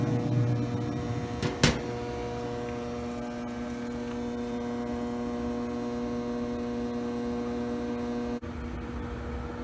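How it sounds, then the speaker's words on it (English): A Camp Chef Woodwind SG pellet grill's fan runs as a steady, even electric hum with a constant tonal drone, broken by a brief clunk near the start and a short dip near the end. "there I can hear the fan kicking on"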